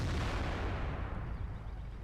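A KV-1S tank cannon fires in the World of Tanks game, giving a heavy, dense boom that fills the whole clip with a sustained rolling rumble and no voices.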